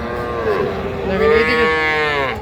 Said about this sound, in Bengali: আচ্ছা চলেন আমরা সারবাসুর গরু দেখাই